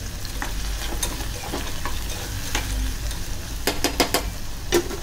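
Tomatoes and crushed green chili cooking in a pan over medium-high gas, a constant close sizzle broken by repeated sharp scrapes and clacks of a spoon stirring, clustering toward the end, with no talk.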